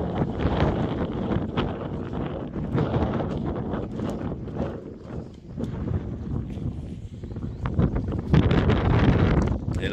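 Cold wind gusts across an open lakeside near a dam, a steady blustery rumble buffeting the microphone, rising louder toward the end.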